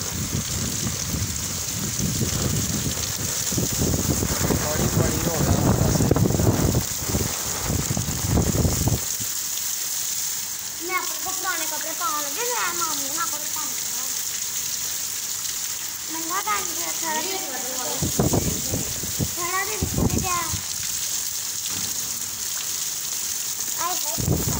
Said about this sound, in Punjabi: ਸੁਬਹਾ ਸੁਬਹਾ ਹੀ ਆ ਰਹੀ ਹੈ ਬਾਰਿਸ਼। ਸੁਬਹਾ ਸੁਬਹਾ ਠੰਡੀਆਂ ਹਵਾਵਾਂ ਚੱਲ ਰਹੀਆਂ।